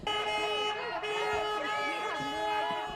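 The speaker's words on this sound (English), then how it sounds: "the sound of honking horns" Car horns honk repeatedly outside State Farm Arena during 2020 election protests, overlapping tones blaring steadily with crowd noise and voices underneath.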